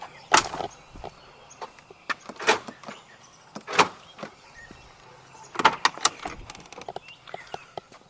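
Mercedes G-Wagon door being worked, several sharp mechanical clunks and latch clicks in irregular bursts, close by with quiet gaps between them.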